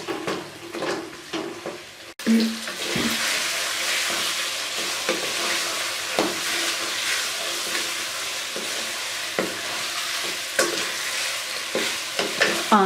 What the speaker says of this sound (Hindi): इसको हम स्लो आंच पे तकरीबन 5 मिनट तक भूनेंगे